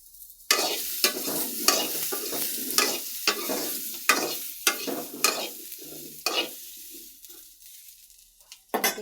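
Boiled potato mashed by hand in a clay mortar, a run of close, rhythmic squelching and scraping strokes, about a dozen distinct pushes with short pauses between them, loud and alone without any talk.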